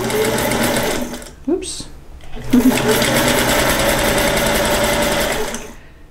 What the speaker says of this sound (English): So there's my straight stitch, and then the Featherweight goes backwards when you lift this lever and back to a straight stitch here